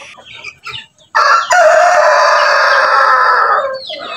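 Roosters and hens in a breeding pen, with a few soft clucks and short calls followed by a loud, close rooster crow that rises and holds for several seconds before trailing off.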